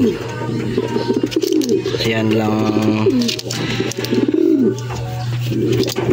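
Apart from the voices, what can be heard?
pigeons cooing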